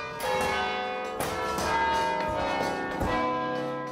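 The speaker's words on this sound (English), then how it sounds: "The next one is a beautiful, exuberant, joyful piece of campanological wonderment" Church bells ring out Joy to the World in a steady peal, rich overlapping tones sustained throughout, fairly close and loud with no voices.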